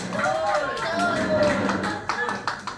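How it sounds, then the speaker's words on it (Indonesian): A crowd of residents claps during a Jakarta election campaign visit. Scattered hand claps run beneath nearby voices talking, growing sharper and more distinct toward the end. "Tuh belum apa-apa lo udah tepuk tangan."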